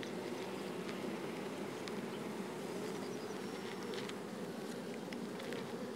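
Steady, dense buzzing of many honey bees on buckwheat close by, a continuous drone with no pauses.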